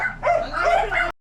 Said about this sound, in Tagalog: Maingay yung aso natin.